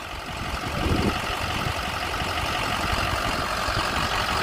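A 2005 Ford F-350 utility bed truck with a 6.0 liter Power Stroke turbo diesel idles steadily up close, its low, even engine rumble continuous throughout with no talk over it.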